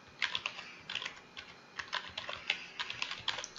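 Fingers type a password on a computer keyboard, a quick irregular run of light, close key clicks in small bursts, quiet and alone.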